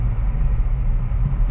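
A 2023 Acura Integra with a manual gearbox pulling away in second gear: a steady, close engine and road rumble that holds level throughout, with no talk.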